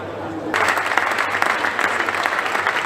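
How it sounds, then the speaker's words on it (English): After a brief quiet moment, a football match crowd breaks into sustained sympathetic applause for an injured player, broad and steady from the stands for the rest of the clip. "as you can hear, sympathetic applause from everybody"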